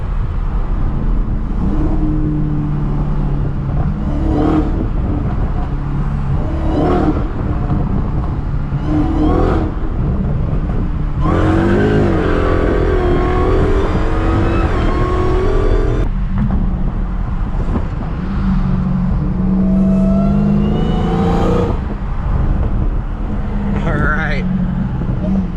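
A Dodge Hellcat accelerates and revs hard with exhaust pops, its engine roar rising and falling in surges up close, while voices talk excitedly over it throughout.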